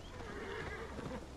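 Eivor's horse in the video game Assassin's Creed Valhalla whinnies once, close and moderately loud, over a steady low game-world rumble.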